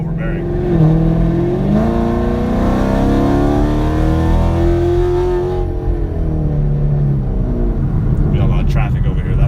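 A 6th-generation Chevrolet Camaro with a straight-pipe exhaust rumbles and revs, a loud, deep engine note rising and falling steadily close by, with a voice talking over it.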